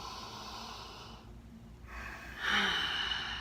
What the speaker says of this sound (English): then what you do is you cup your face and just take a nice deep inhale.